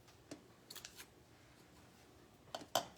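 Scissors snip loose strings on a handmade twig cross, a few quiet, sharp separate clicks spaced across a soft, hushed background.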